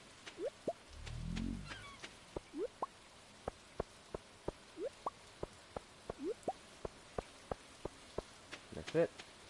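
Light rain in the Stardew Valley video game, heard as sparse, quiet drips and plops at irregular intervals, with a brief low rumble early on and no voices.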